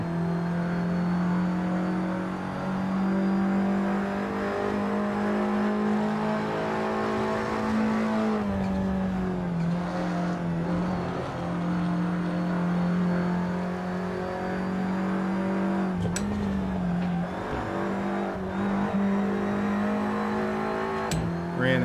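Audi TT Cup race car engine in Assetto Corsa at Brands Hatch, a loud continuous in-car drone that rises and falls with revs and gear changes, with occasional brief knocks over the engine.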